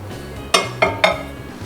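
Pasta being mixed in a pan with cream and flour for jerk chicken pasta, heard as three quick metallic clinks of a utensil against the pan over a low hum, close and fairly loud.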